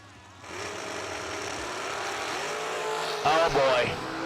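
A race car engine at full throttle at a summer racing event, a sustained distant roar under a commentator's voice, rising to a louder burst near the end.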